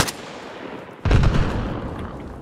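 Gunfire in Arma Reforger: a faint sharp report at the start, then a louder distant shot or short burst with a rolling echo that fades over the following second.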